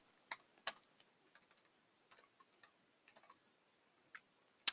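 Light typing on a computer keyboard, quiet scattered clicks in short irregular bursts of keystrokes with gaps between them, close by with no talk.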